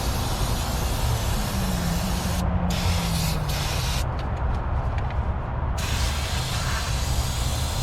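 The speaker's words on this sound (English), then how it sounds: "I'm going to hose it off for brake clean." Brake cleaner is sprayed onto a car's brake backing plate during a front brake pad replacement on a Nissan Rogue, making a loud, close, continuous hiss that holds steady for about eight seconds.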